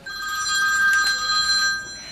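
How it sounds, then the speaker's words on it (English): A telephone bell rings steadily and fairly loudly for about two seconds, its bright metallic tone holding without pause and no voices over it. "As the phone rings."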